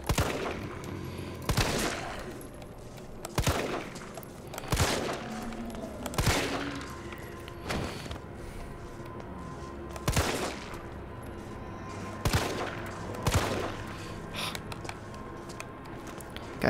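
Handgun shots in Resident Evil 3 Remake ring out one at a time, sharp loud cracks spaced a second or two apart across the clip, each with a short echoing tail over a low ambient game background.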